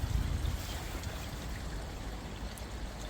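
Water from a garden fish pond waterfall, a continuous splashing trickle and pour heard close and steady with no talking.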